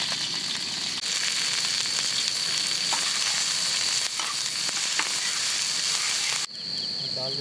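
Chili frying in mustard oil over a camp cooking setup beside a forest river, a loud continuous close crackling sizzle that cuts briefly near the end.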